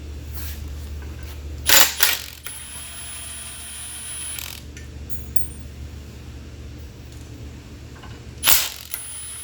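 Bursts of ratchet clicking as clutch bolts are loosened, two main close, loud runs of pawl ticks separated by a low, steady hum and a few faint clinks.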